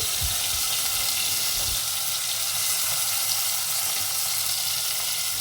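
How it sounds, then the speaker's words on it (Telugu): Green peas chicken masala frying in a little oil in a pan, a steady dense sizzle with bubbling crackle that holds evenly throughout, close and fairly loud, with no talking. "మనం ఫ్రై చేసుకోవాలి చూడండి కొంచెం కొంచెం వేసిన తర్వాత మనం ఫ్రై చేసుకోవాల్సి ఉంటుంది"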